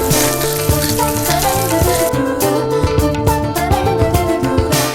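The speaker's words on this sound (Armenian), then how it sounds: "ձիթայուղի մեջ տապակում եմ սերկեֆիլը" Sliced quince fries in olive oil with a steady sizzle and crackle, partly masked by loud background music, with no talking.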